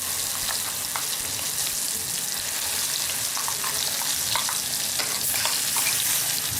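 Ground raw mango paste frying in oil in a pan with asafoetida and fennel seeds: a steady, dense sizzle with scattered small pops and crackles throughout, close and even, no voices.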